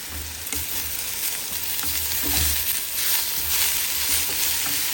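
Small ground shrimp frying in a pan, a close steady sizzle with intermittent soft stirring scrapes running for about five seconds, no voices.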